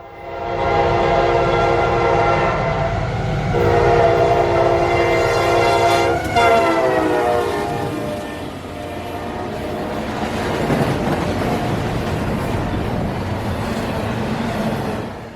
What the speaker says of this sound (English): This was probably one of the fastest intermodals I have ever seen.